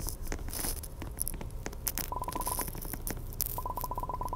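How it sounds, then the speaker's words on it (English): A telephone rings inside a Roblox airplane game, two rapid trilling bursts of electronic ringing over busy game clatter and scattered clicks. "the phone is ringing"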